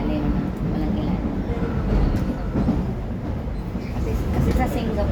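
An above-ground London train rumbles steadily past for several seconds, a loud, broad, continuous roar with faint rattling and no clear pauses.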